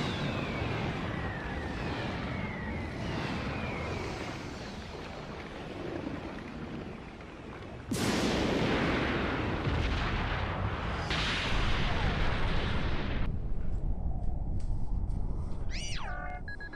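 Attack explosions from the video game Yu-Gi-Oh! Master Duel: a loud, sustained roar of blasts and rumble that jumps louder about halfway through, then thins into ringing, shimmering tones at the end.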